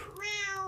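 A kitten gives a single close, clear meow, a drawn-out tonal cry that rises slightly and holds steady, in a cabin during a blizzard.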